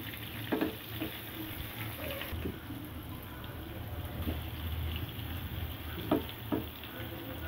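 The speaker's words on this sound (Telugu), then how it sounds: "చికెన్ 65 పీసులు లెగ్ పీసుల్ని 10 to 15 మినిట్స్ లో ఫ్లేమ్లో పెట్టుకొని వేయించుకోవాలి" Chicken 65 leg pieces fry in hot oil with a steady, soft sizzle and occasional small pops and crackles throughout, with no voices.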